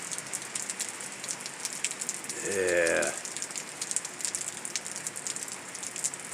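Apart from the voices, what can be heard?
rain falling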